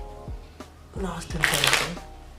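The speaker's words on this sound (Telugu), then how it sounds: "ఇప్పుడు రిమైనింగ్ కార్డ్స్ని మనం షఫుల్ చేద్దాం." A deck of playing cards, jokers removed, gets one quick riffle shuffle, a short crisp flutter of cards after a moment of quieter handling noise and a brief voice.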